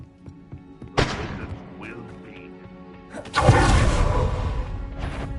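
Fiery spell blasts from the Confringo fire spell in Hogwarts Legacy: a sharp burst, then a louder roaring explosion with rumbling crackle that sustains, with another hit near the end, over game background noise.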